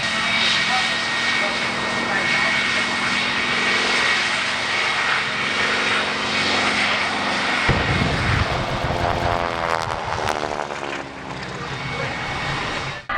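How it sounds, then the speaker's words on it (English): A loud T-6 Texan propeller airplane engine roars continuously at an air show race, its pitch sweeping as the aircraft passes close by, with voices talking underneath. "I believe we're racing the T6 Texan"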